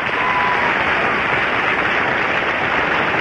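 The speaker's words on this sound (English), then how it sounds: "Your applause for candidate number one." Studio audience applauding on a radio game show, a dense, steady wash of clapping that holds at full strength throughout without any voices.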